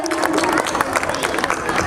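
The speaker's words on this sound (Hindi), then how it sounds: "जोरदार तालियों के साथ इन बच्चों का हौसला बढ़ाया जाए।" Audience applause and crowd noise after a children's skit, a dense, steady wash of clapping and murmuring voices throughout, fairly loud and close.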